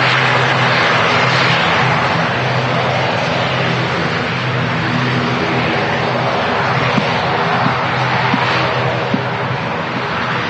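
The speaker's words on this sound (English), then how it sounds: "Lufthansa A320 heading back to Munich" A Lufthansa Airbus A320 departing Manchester Airport for Munich gives a steady, loud engine roar that holds evenly throughout with no talk over it.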